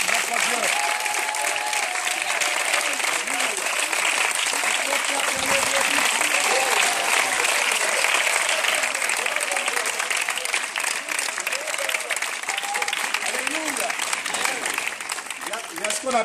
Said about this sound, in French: J'ai l'impression que vous êtes en train d'applaudir.